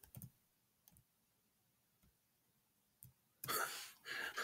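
Several sharp isolated clicks like keystrokes, spaced out over a few seconds, followed by a burst of louder, denser clatter near the end.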